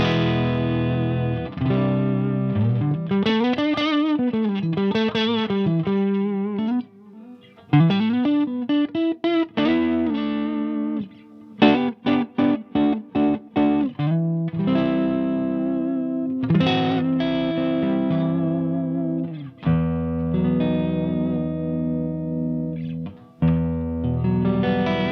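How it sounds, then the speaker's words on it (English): Marshall Origin 50 amp head driving an electric guitar with no overdrive or boost: clean-to-edgy chords and single-note bends, sliding lines and quick staccato stabs played continuously for about 25 seconds, no talking. "it sounds like this without the overdrive and without the boost engaged on the Origin"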